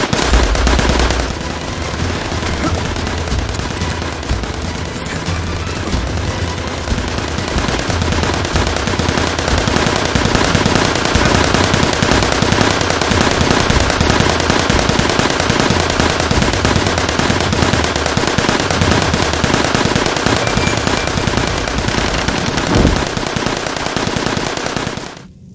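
Sustained dense gunfire in Assassin's Creed Chronicles India, rapid machine-gun bursts and volleys crackling without pause for over twenty seconds, loud and close before cutting off abruptly.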